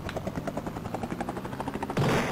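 Helicopter rotor in the Commodore Amiga game Rescue, a steady rapid chopping pulse that turns into a louder burst of noise near the end.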